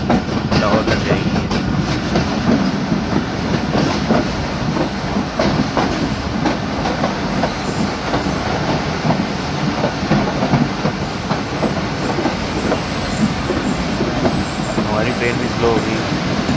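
A Pakistan Express passenger train, hauled by a GU-class locomotive, runs over the railway line from Rawalpindi toward Lahore. A loud, steady rolling rumble with faint clickety-clack carries on throughout, and people talk over it.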